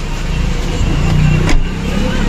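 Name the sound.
car arriving and driving off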